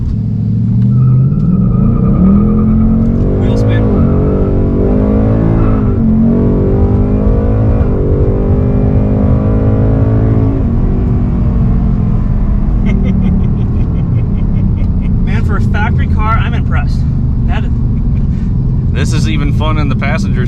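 A PP1 Mustang 5.0 with a 10-speed automatic accelerating hard, its engine rising and shifting through gears in a steady, loud drone while people talk over it throughout.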